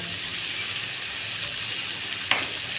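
Bengali cholar dal sizzling as it fries with cashews and raisins, a steady low hiss with a couple of small clicks from the pan, no voices.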